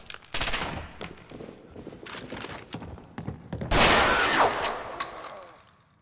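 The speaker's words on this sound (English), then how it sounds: "This gun's not automatic, is it?" Gunfire from a non-automatic gun in Fallout 4, loud separate blasts with echoing tails and a heavy burst later on, fading out at the end.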